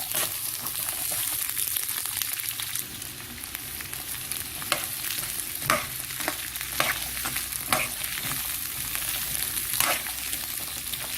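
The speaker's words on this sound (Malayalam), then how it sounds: "ഇത് പകുതി വേവ് ആവുന്നവരെ നന്നായി ഇളക്കി കൊടുക്കേണ്ടതാണ്." Garlic frying in oil in a pan for pickle while being stirred, a steady close sizzle with repeated scraping strokes of a spoon every second or so, no talking.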